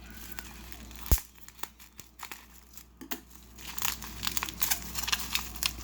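A bubble mailer holding an expensive, near-mint Pokemon Blastoise Base Set holo card is torn open up close, with crinkling and tearing plastic, one sharp rip early on and busier rustling toward the end.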